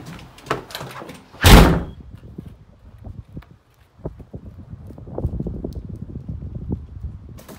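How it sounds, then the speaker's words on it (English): A front door opening and closing as someone heads out to a birthday party, with a loud thud near the start followed by clattering steps and handling noises. "I'm going out the front door right now as we speak."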